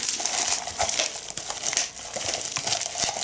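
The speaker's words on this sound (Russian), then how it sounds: "Потому что я вот ее пупырчатую пленку эту рву-рву." Continuous crinkling and crackling of plastic bubble wrap being torn and crushed up close, with small pops and rustles throughout.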